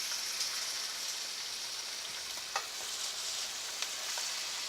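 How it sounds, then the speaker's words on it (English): Steak sears in a Lodge cast iron pan, a steady close sizzle and hiss with a few small pops and crackles, no voices. "Really get those sides seared. And that's gonna get some of that fat, some of that marble, get it down into my liquid."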